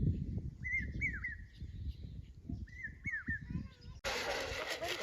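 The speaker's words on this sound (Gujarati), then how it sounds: "પક્ષીઓનો અવાજ આવે છે. સામે લીમડો છે એની માટે પક્ષી બેઠું છે અને બોલે છે." A bird perched in a neem tree near a farm field gives two short bursts of rising whistled calls at a moderate distance over low background rumble, followed by a sudden rush of noise.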